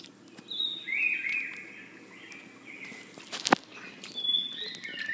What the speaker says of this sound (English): Hermit thrush.